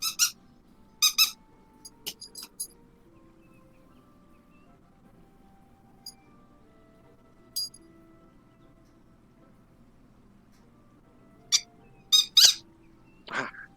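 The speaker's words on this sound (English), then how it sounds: "Fetch the squeaky ball." A squeaky ball toy gives short, sharp squeaks during a game of fetch, some single and some in quick pairs, scattered over a quiet background with a low steady hum.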